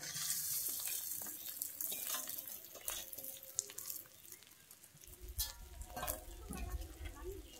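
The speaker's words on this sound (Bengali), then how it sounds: "আমি এর মধ্যে দিয়ে দিচ্ছি এবারে মাখিয়ে রাখা চালটা" Marinated rice tipped into a hot pan for basanti pulao, sizzling and frying with irregular scraping and stirring noises, growing louder and rougher toward the end.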